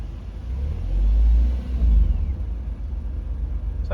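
A Renault Alpine A110 sports car engine idling and revving, a deep low rumble that swells twice before settling, close and steady with no one speaking.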